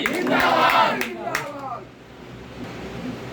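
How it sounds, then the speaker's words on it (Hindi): A crowd at a political rally breaks into brief applause, a burst of clapping and cheering that fades after about a second and a half, following a speaker's voice. "हम सब लोग मिलकर के उसे एक बार जोरदार ताली से स्वागत करेंगे"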